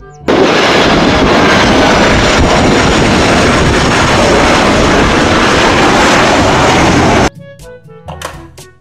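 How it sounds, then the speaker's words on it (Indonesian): A loud, steady roar of a large aircraft engine holds for about seven seconds, then cuts off abruptly, leaving faint scattered sounds. "Pesawat terbang."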